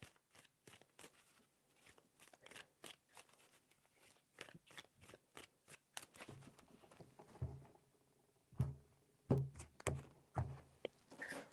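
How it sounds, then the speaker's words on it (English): Tarot cards shuffled three times, a quick run of dry riffling taps and thunks, close by and fairly quiet, growing louder and heavier toward the end with a few sharp knocks as the deck is squared. "3 shuffles."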